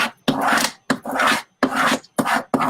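A Cricut scraper rubbing vinyl onto transfer tape, making five or six close, loud rasping strokes separated by short pauses.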